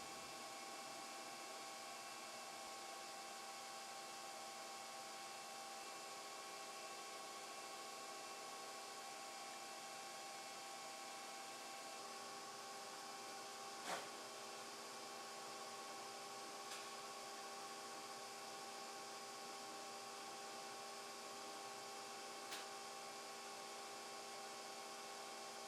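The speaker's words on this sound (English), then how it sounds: "In these shots you can see that it cuts the wood without issue and that the smoke extractor is working properly." An xTool P3 laser cuts wood while a smoke extractor runs. The result is a faint, constant airflow hum with a few brief clicks spread across the long stretch.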